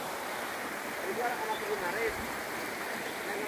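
The Bedono river at a village being readied for tourism, a steady broadband rush of flowing stream water, continuous and moderately near, with faint voices in the background.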